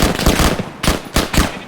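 An enemy heavy machine gun in a military video game fires in short, loud, close bursts of rapid shots separated by brief pauses.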